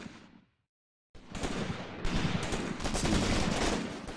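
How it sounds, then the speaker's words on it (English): Heavy gunfire in the Graviteam Tactics war game: dense, continuous volleys of rifle and machine-gun fire crackle loudly after a brief silence, building into a sustained roar of overlapping shots. "A lot of heavy guns."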